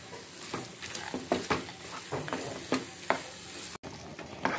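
A spoon stirs carrot halwa in a pan after roasted dry fruits and cardamom powder are added, giving repeated scraping strokes over a soft sizzle, close and moderately loud, with no talking.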